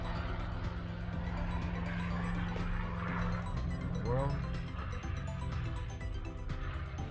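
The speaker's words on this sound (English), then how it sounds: "Wow, that truck's loud." A loud feeder truck passes outside a garage, its heavy engine making a continuous low rumble that swells midway, with a brief rising whine, then eases off.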